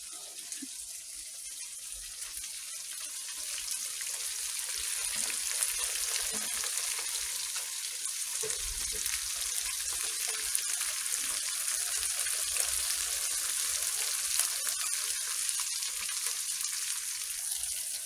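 Whiting fish fry in a hot pan with a steady, close crackling sizzle that holds evenly throughout, with occasional faint clinks and no voices.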